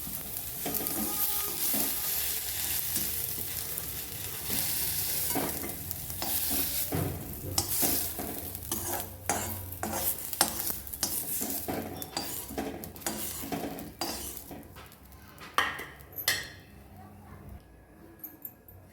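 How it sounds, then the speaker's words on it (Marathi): Chopped onion and tomato sauté in oil in a pan, with a soft steady sizzle broken by repeated scraping and clinking of a metal spatula stirring against the pan, close and moderately loud. "कांदा आणि टमाटा आपलं छान परतलेलं आहे"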